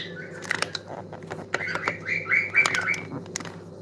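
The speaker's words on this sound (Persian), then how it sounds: "پرنده." Bird calls ring out in a quick run of bright chirps, with a soft flutter of wings underneath, heard close and fairly loud against a faint low hum in the room.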